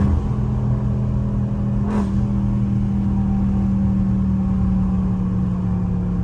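A Dodge Scat Pack engine holds a steady, deep, loud drone close by, with one short sharp burst near the two-second mark and no speech.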